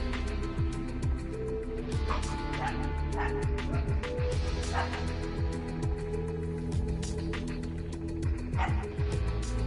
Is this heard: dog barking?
yes